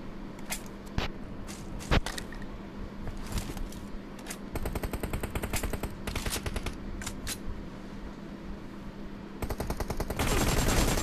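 Gunfire in a shooting video game, rapid sharp shots and short automatic bursts scattered throughout, fairly quiet and alone, with a denser burst of fire near the end.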